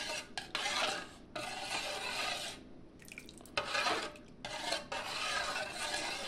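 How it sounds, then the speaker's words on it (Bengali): A stick stirs an old conch shell in a pot of hot water: long bursts of rough, hissing scraping and swirling, broken by short pauses, fairly close and steady, with no talk. "তো বাটাটা দিয়ে, ঠাকুরের বাটাটা দিয়ে একটু নাড়িয়ে নিই।"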